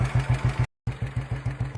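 A P&M Panther sloper classic British motorcycle idles close by with a slow, even thumping beat, broken by a short moment of silence before the steady putter resumes.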